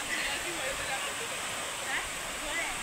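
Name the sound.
flowing stream in a garden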